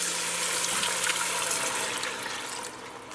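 Steady rushing and splashing of water poured into a pot of breadfruit soup, continuous and close, with no talking.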